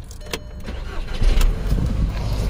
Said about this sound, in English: Let me turn this car on.